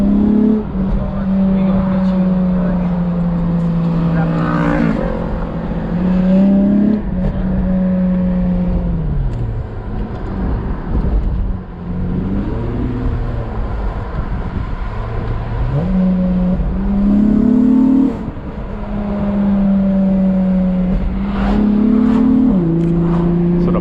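An Acura TL SH-AWD with a crackle tune, its engine loud and close, revving up and settling back in repeated swells over a steady idle, with harsh bursts between.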